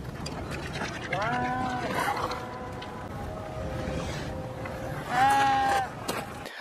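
Goats bleat during a dry-season drought on a rural smallholding with a few wavering calls at moderate distance, one louder and closer near the end, over low background noise.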